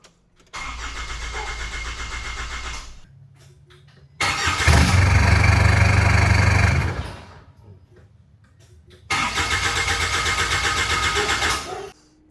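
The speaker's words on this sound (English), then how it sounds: "I just tried cranking it over, it will not fire." A car engine cranks over without firing in three separate, long, loud starter-motor bursts. Each bursts in with a steady churning whir and cuts off into short near-silent gaps, with no catch or run-up.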